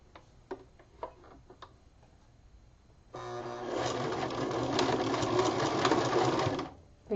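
Sewing machine stitching across the top of fabric pleats: a few soft ticks and clicks, then a steady loud mechanical whir running for about four seconds before stopping.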